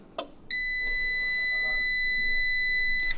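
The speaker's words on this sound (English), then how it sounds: "You'll hear a beep for a few seconds. Don't worry, it is perfectly normal." A solar inverter connected to a Pylontech battery gives a steady, loud electronic beep tone that holds for a few seconds after being switched on, following a brief click.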